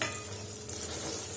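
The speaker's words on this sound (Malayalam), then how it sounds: "ഇപ്പം അണ്ടിപ്പരിപ്പും കൂടി ഒരു ടേസ്റ്റിന് വേണ്ടിയിട്ട് അതും കൂടി ചേർത്ത് നല്ല മാതിരി ഒന്ന് ഇളക്കുക കേട്ടോ" Cardamom and cashews are stirred into a pan of rice-water halwa, making a soft, close sizzle and scraping stir that lasts barely more than a second, with no talk.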